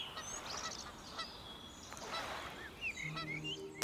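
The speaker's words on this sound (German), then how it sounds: "Zwei Nilgänse haben Stellung am Ufer bezogen." Several Egyptian geese honk on a lakeshore against a quiet outdoor background, some harsh and nasal, spaced irregularly with a few sharper calls near the end.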